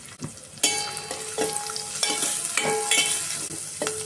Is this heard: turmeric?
yes